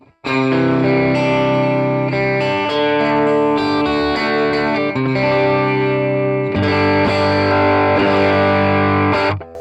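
Overdriven electric guitar chords through a Jet Pedals LAMB Overdrive ring out loud and sustained, with a gritty, saturated tone and a brief pause before the strumming swells again.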